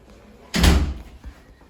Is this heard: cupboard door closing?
yes